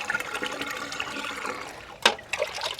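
Water from a newly bought pump motor gushes out in a steady, splashing flow that fills the scene, broken by a sharp knock near the end.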